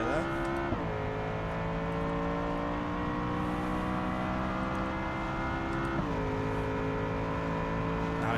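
A race car engine drives the Nurburgring in BeamNG, droning steadily with harmonics that rise and drop at two gear changes. A voice talks over it.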